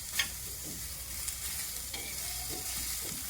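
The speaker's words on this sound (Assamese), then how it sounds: "খালি যাতে কেঁচা গোন্ধটো নাহে সেইটোৰ বাবে অলপ ভাজিব আৰু।" Chopped onion stir-fried in a pan makes a quiet, constant sizzle, with light scrapes and taps of the stirring spoon spread through it.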